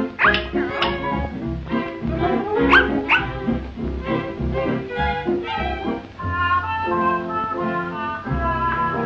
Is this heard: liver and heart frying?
no